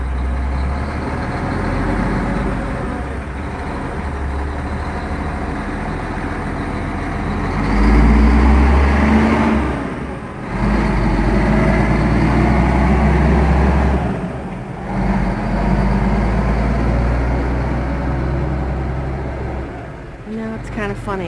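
A son's own truck pulls away from the house, its engine a steady low rumble that swells midway and then fades as it drives off, with other cars passing and a voice talking over it.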